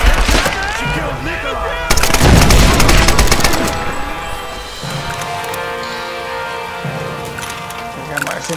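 A grenade launcher fires in a Tomb Raider video game, with a loud booming burst of rapid reports followed by fading rumble and clatter, and a voice speaking now and then.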